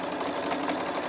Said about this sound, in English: we're sewing across this binding, down to the 4th corner